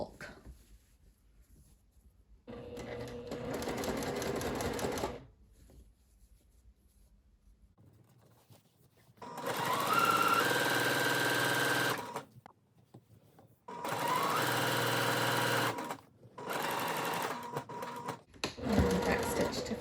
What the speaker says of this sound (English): I'm going to put my stitch length at a 3 and just sew all the way around